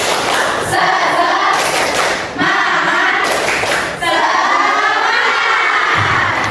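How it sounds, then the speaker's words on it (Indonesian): Schoolchildren performing a rhythmic group spirit clap with shouted chants, loud and close, in three bursts separated by brief pauses, with cheering voices mixed through the clapping. "Ayo kita tepuk semangat dulu."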